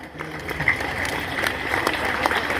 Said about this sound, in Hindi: ताली नहीं बजा रहे भीतर वाले?